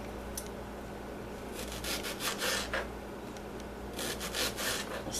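A knife slices an onion thinly into strings on a board, producing soft, rasping strokes over a steady low background hum, with clusters of crisp cuts close by.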